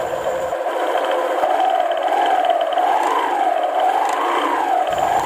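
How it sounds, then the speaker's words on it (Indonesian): A Honda Vario 150 scooter's freshly washed, still-stiff CVT drive belt whines steadily at idle, a continuous close tonal whir that gently rises and falls in pitch throughout, with no talking. "Ini agak berdesing sedikit suaranya, soalnya fanbelnya habis saya cuci, jadi dia agak keset belum lentur."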